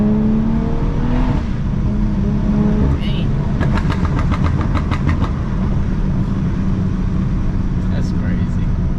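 Steady engine drone from a straight-piped BMW 340i while driving, a constant low rumble inside the cabin with a brief burst of rapid popping crackles in the middle, under people talking.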